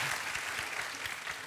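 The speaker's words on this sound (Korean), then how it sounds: "박수 주세요" Audience clapping on a Korean comedy stage show, a brief burst of continuous, fairly loud applause from a crowd with no talking.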